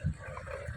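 A short, low dog woof or grunt, close by, with a second softer bark near the end.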